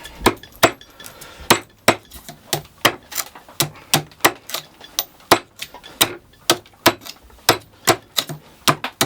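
Blows from an adze reforged from an old hammer chop into wood while hollowing out a small bowl: sharp, close, evenly paced strikes, about two per second, with no speech.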